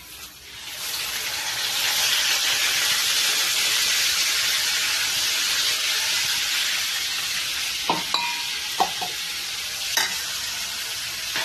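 A paste of onion and tomato sizzles and fries in a hot pan, giving a loud, steady hiss throughout with a few faint clicks of stirring near the end.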